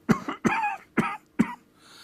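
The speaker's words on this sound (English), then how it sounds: "Coughing," Four sharp, close coughs from one person, evenly spaced about half a second apart, each a short harsh burst followed by silence.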